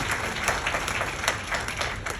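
An audience claps steadily at a women's health symposium keynote, a dense continuous applause with no speech over it.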